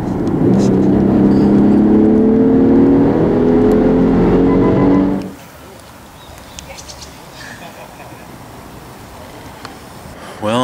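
Car cruising on a coastal highway, a steady loud engine and road drone with a rising whine that cuts off abruptly midway, leaving quiet ambient noise.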